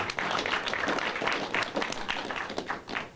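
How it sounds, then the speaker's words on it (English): An audience at the Fine Arts Cinema in Berkeley applauds, a dense, steady patter of many hands clapping from start to finish. "I would like you guys to give him a little applause."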